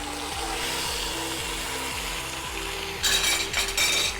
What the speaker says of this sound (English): In the oil, I am searing all the sides